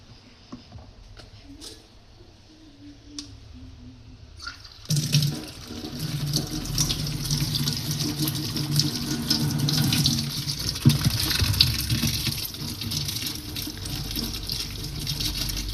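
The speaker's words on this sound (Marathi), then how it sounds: "तर आता जरा धुवून घेते, एक एक चांगली माती काढून घेऊया आतमधली." Mushrooms are rinsed under a running kitchen tap to wash off soil. Faint handling noises come first, then a steady, fairly loud gush of water runs continuously to the end.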